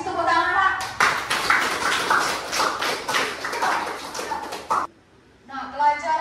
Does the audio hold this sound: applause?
yes